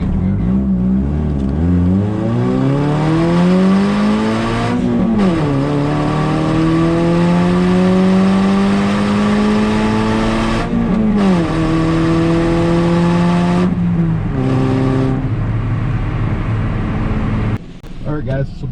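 A tuned Toyota Yaris with a reflashed ECU accelerates hard up an entrance ramp, its engine note climbing steadily through each gear with brief dips at the shifts, loud and close from inside the cabin.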